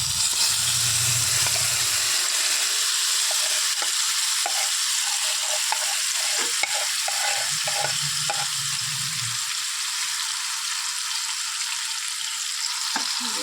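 Loud, steady sizzling of hog plum paste frying in hot oil with five-spice seeds fills the whole stretch, with occasional scraping and stirring sounds from a utensil.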